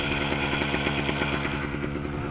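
Motorcycle engine running steadily after a clutch pad replacement, a continuous close idle with an even, rapid mechanical pulse and no talk.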